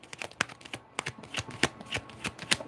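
An Archangel Michael oracle card deck is shuffled by hand, a quick run of crisp riffling card flutters and taps, close and alone.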